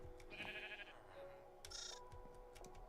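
Minecraft sheep give several short, nasal bleats, two clear calls close together with a few clicks and ticks in between, and no talking over them.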